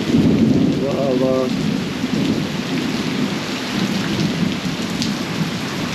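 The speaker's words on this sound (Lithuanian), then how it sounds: "Čia šitą žaibą garsas buvo." Heavy rain pours steadily in a jungle while low thunder rolls beneath it, with a brief chirping call near the start and no voices.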